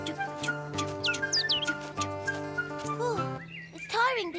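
Quick chirping bird calls flit over light background music, a few sweeping tweets rising and falling.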